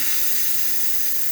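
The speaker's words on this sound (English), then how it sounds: "Nice strong steam." Steam wand on a La Pavoni espresso machine, just serviced, hissing loudly and steadily in a strong continuous rush of steam with no pauses.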